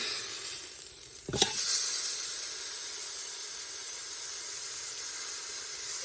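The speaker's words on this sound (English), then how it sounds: "you're just gonna sear it on all sides" A tough cut of meat hits a hot pot for searing with a sudden loud burst of sizzle, then a steady, close hiss and crackle continues without pause.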